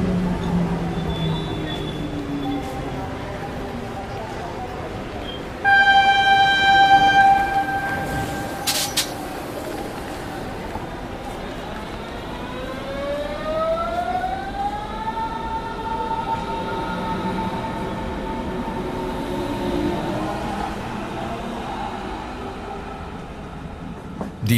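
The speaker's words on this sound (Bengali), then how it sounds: "স্বাভাবিকভাবেই ট্রেন আসতে তাতে উঠে পড়লাম" A train arrives and runs on, with a loud horn-like tone blaring midway, then a long rising and steady drone of the moving train over rumbling wheels, staged as a story sound effect.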